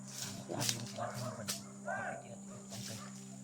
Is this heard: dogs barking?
yes